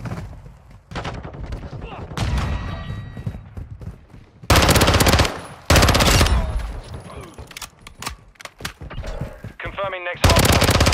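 Gunfire from the Modern Warfare 2 video game in ranked hardpoint play: rapid bursts of automatic weapon fire with loud, sharp cracks, mixed with game announcer callouts and player talk.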